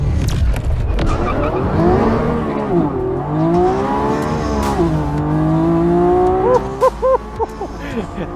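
A Lamborghini Revuelto V12 plug-in hybrid screams through a burnout on a race track, engine wailing and rising and falling in pitch with tire squeal, loud and close, ending in quick revving bursts.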